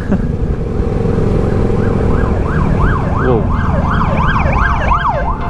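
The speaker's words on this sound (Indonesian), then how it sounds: "ambulans" A wailing ambulance siren sweeps up and down repeatedly, growing louder and nearer over steady road noise on a toll road heard from a motorcycle, with a brief exclamation from a voice.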